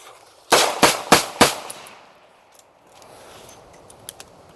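Snub-nose revolver fired during a handicapped shooter's reload drill: four loud, sharp shots in quick succession, then a near-silent lull with faint rustling and handling noise.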